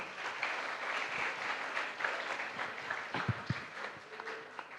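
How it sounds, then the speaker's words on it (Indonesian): An audience at an energy talk on Pertalite fuel at STIKOM Interstudi claps for a panelist, a moderately quiet, continuous patter of hands lasting several seconds with a few sharper claps toward the end. "Baik Pak Wawan, tepuk tangan buat Pak Wawan."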